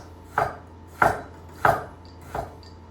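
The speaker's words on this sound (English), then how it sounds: "you're moving the knife in a cutting motion" A chef knife chops food on a cutting board in four evenly spaced, crisp strikes about two-thirds of a second apart, close and clear with no talking.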